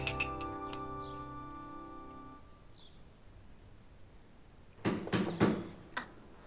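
Glasses clink together in a toast indoors, a bright ringing note that fades over about two seconds, followed later by a few soft rustling bumps.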